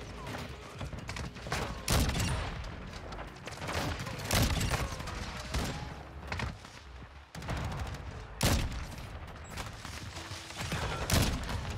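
Shotgun fire in Call of Duty: Modern Warfare 2 online play, several sharp loud blasts spaced a few seconds apart over continuous game noise, mechanical clatter and faint background sounds.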